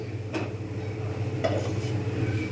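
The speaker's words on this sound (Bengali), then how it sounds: "ঢাকনাটা আমি খুলে নিচ্ছি" A metal pot lid clinks and scrapes as it is lifted off a pan while patishapta pitha cooks, two short bright clatters over a low steady kitchen hum, close and moderately loud.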